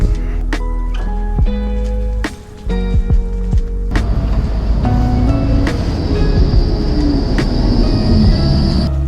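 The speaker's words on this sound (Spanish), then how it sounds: "Ya vamos a esperar el tranvía." Tram arriving at a stop in snowy Magdeburg, with heavy rumbling, clanking wheel clicks and a high metallic squeal as it rolls in and slows, loud and close, with no talk.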